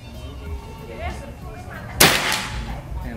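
A single sharp crack from a Predator Tactical PCP air rifle with a 60 cm barrel, fired at long range during an accuracy test, bursting out loudly over a low outdoor background with faint voices.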